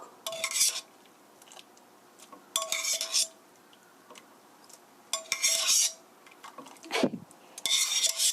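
Chicken spaghetti stirred in a pan with a utensil, four bursts of scraping and metallic clinking separated by quiet pauses, close and clear.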